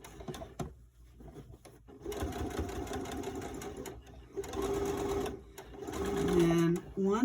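Sewing machine stitching along the edge of a fabric face mask with a pipe cleaner tucked inside, running in steady close bursts with short pauses and a voice talking over the stitching.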